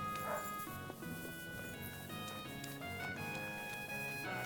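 Barking from a dog in Kingdom Come: Deliverance 2, a few short yips and barks woven into a busy, steady game soundscape with music-like tonal layers underneath.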